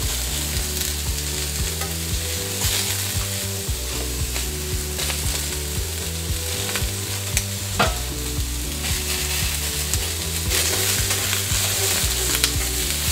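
Chicken fajita filling is stirred in a dry pan without oil, giving a steady sizzle with scraping and stirring sounds throughout, loud and close, broken by a sharp clack near the middle.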